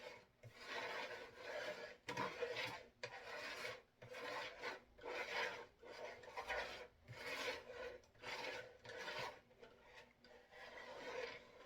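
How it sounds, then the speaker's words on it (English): A spatula spreads frosting onto a cake in a steady series of about a dozen soft, rasping strokes, close and fairly quiet, with no voices. "You don't want to apply too much pressure because then you're just scraping it instead of nicely like setting it onto the cake."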